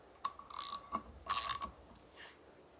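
An adjustable spanner (shifter) tightens a fitting on a John Deere 1640 tractor's flywheel and clutch, giving a few short, close metallic clicks and ratcheting scrapes in quick bursts.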